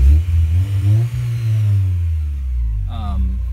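A 2001 Honda Prelude SH fitted with a YONAKA full catback exhaust revs up close and loud, its deep, steady drone swelling and easing through the mid-RPM range, with no talking over it.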